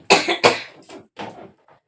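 Several harsh coughs close up: two strong bursts, then three weaker ones trailing off, with no talking.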